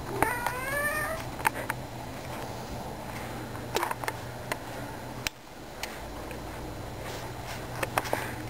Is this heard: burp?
no